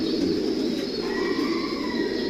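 Racing pigeons coo steadily in a loft full of young birds, soft overlapping throaty calls close by over a constant hum, with a higher chirp joining partway through.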